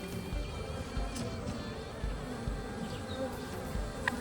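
Honey bees buzzing around hive frames laden with nectar, a steady close drone of many wings with a few louder passes near the listener.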